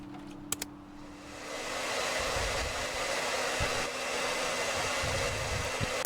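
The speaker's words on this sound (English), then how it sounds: "Okay, let's get back to the vacuum cleaner." A household vacuum cleaner runs as a steady, fairly loud motor whoosh with broadband airflow noise and a low hum, preceded by a couple of short clicks at the start, with no talking over it.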